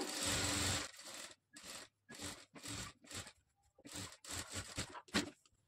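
Sewing machine stitching a Madubala-design blouse, running in about eight short whirring bursts separated by brief pauses, close and alone without talk.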